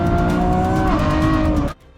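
A Lamborghini Revuelto brakes late into a corner, its loud engine and squealing tires droning steadily at close range before cutting off abruptly near the end, leaving a quiet low rumble.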